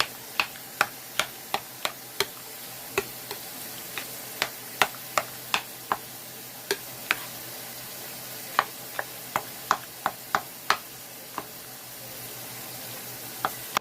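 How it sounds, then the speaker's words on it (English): A spoon stirs macaroni and cheese with sharp cheese and milk in a pot, giving a long series of crisp, irregular clicks and taps against the pot over a soft background hiss, with no talking. "And it's going to start stirring it all in."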